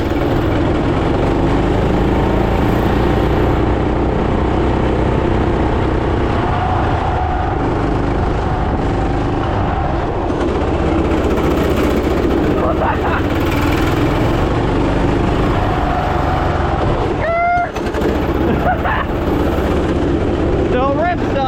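A turbocharged 420cc go-kart engine runs loud and close throughout while the kart drifts, a continuous rough engine roar with shifting pitch and brief tire squeals, with voices talking over it.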